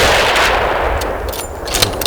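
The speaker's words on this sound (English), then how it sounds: "Should I shoot him again?" A gunshot fired during a late-season big-game hunt in the Rocky Mountains, heard as a loud, rushing, booming blast that rolls on for about two seconds without speech.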